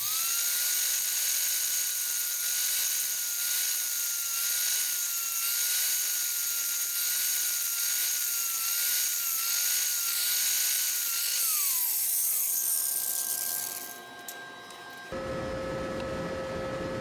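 Metal grinding on a part from a John Deere RX95 riding mower being restored: a steady, loud high-pitched whine held for about eleven seconds, dropping in pitch as the grinder winds down, followed by a brief harsh rasp.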